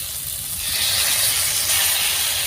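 Ground spice paste hitting a hot pan of half-cooked vegetables for a river fish curry, giving a loud, steady broadband hiss and sizzle that swells slightly and continues without a break.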